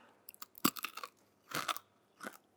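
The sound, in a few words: crunching oven-dried crisp cheese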